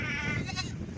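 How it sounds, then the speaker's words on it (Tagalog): Young goats bleat at close range in a short, strained cry with outdoor background noise and no talk over it. "Lumapit sa atin yung mga kambing na mga bata."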